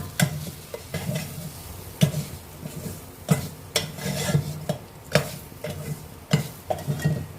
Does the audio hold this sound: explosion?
no